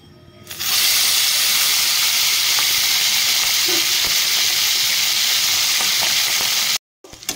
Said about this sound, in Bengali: দিয়ে দিব সরষের তেল মাছটা ভাজার জন্য